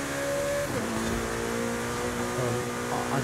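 A 2014 Ferrari California T in Forza Horizon 5 revs hard with a throaty front-mounted V8 growl, pitch climbing and falling through quick throttle blips, loud and close with no talking.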